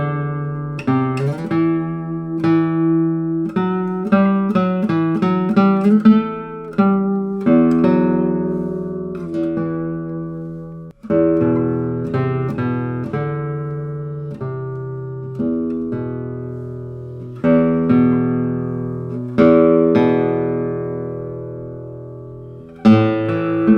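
A 2001 Dominique Field classical guitar played solo and up close: plucked notes and chords ringing out in phrases, with bright attacks that decay between strokes and several strummed flourishes, no voices.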